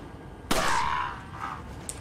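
A single loud pistol shot in the video game Resident Evil 4 cracks sharply and rings out briefly, followed by a fainter impact and a small click.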